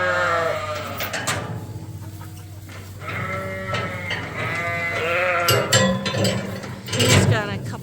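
Sheep bleat on a farm at breeding time as ewes and a ram are sorted together, with repeated wavering bleats rising and falling close by and some overlapping calls.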